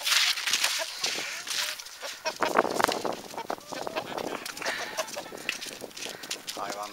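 Chickens cluck and squawk near and all around in a shed-like coop during snow, a busy, overlapping chatter, with a person talking now and then.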